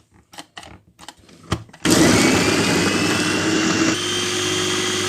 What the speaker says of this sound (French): je vais mixer du céleri